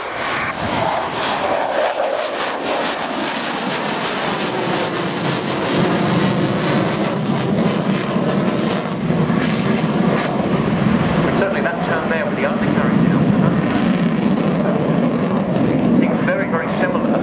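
A Sukhoi Su-27 jet fighter roars through a flying display at RIAT, its loud, continuous engine rumble swelling and fading steadily as it passes, with a commentator talking over it throughout.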